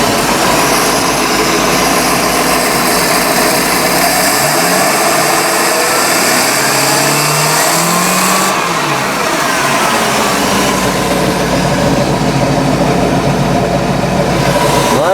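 A carburetted Mercruiser 5.0 V8 boat engine runs rough, giving a loud, continuous close-up roar with uneven pitch wobbles and a brief dip partway through, with no talk.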